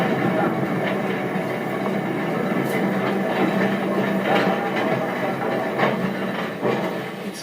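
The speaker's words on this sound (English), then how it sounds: "the whole train is heading across the Tyne to turn around." British LNER steam locomotive 60163 Tornado hauling its train across the Tyne near Newcastle at night, a loud, continuous rumbling roar with steady rail clatter and repeated rhythmic beats throughout.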